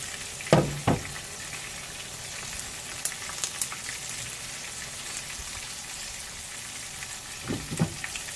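Corn sizzles and fries steadily in a pan, a soft continuous crackle broken by a couple of sharp clanks near the start and end, with no talk.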